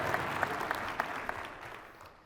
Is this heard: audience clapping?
yes